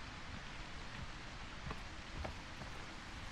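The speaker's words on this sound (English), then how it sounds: "the rain is gonna, you know, it's gonna cover our sound, so we're good" Rain in the horror game A Quiet Place: The Road Ahead, a steady soft hiss of falling drops with a few faint taps on surfaces, low and even throughout, no voices.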